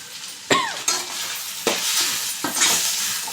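Maggi noodles stirred in a hot pan, a soft frying hiss under four or five distinct scrapes and clinks of a spoon against the metal, close-up and with no talking.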